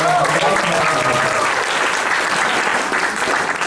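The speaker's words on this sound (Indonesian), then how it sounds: "Tepuk tangan untuk teman-teman." An audience at a master class on Belitung gambus music gives loud, dense applause that fills the whole stretch evenly, with a brief faint voice at the start.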